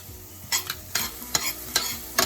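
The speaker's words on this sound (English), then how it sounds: "So I'm still continuing to saute my vegetables" Potatoes, corn and carrots sauté in a pan for Japanese curry, a spatula scraping and stirring in about five distinct strokes over a light, steady sizzle, close and fairly loud.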